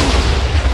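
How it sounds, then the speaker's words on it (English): A huge TNT wall blowing up in a video game, a loud continuous booming roar of explosions with deep rumble, close and heavy, heard alone. "Oh, this was such a huge explosion."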